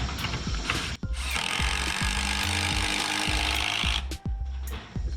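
Screws driven by hand into wood while fitting a pet fence, a close, continuous grinding creak with repeated sharp clicks as the screwdriver turns.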